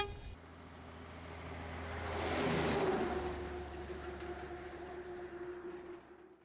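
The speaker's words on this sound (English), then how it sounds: "here's an example of some of the noises you will hear when you're riding your motorcycle" Road and traffic noise heard from a moving motorcycle: a steady roar of wind and passing vehicles swells and fades, with a brief horn-like tone at the start and a low engine rumble underneath.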